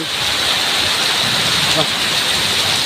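Heavy rain with strong wind roars as a dense, loud, constant wash of noise close by, without pauses.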